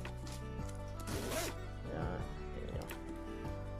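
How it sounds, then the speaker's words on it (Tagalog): The zipper of a PSG Nike jacket is pulled back and forth in several quick raspy strokes, close up, over a low background hum. "Ayan, ang zipper niya."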